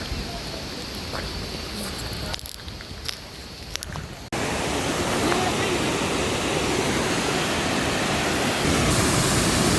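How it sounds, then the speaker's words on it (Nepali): A large waterfall roars as a dense, steady wash of noise, moderately distant at first, then suddenly much louder and closer, filling the rest of the clip. "कत्रो ठुलो झर्ना हो।"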